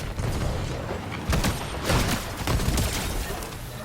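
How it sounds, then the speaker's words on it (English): Shotgun blasts in a combat video game, several loud broadband bursts landing irregularly over a dense, busy game soundscape with no talk. "this shotgun's low-key overpowered"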